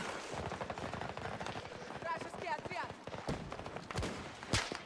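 Sniper gunfire in the shooter game Delta Force, with sharp cracks scattered among dense gunfight noise, the loudest shot near the end, while a voice talks over it.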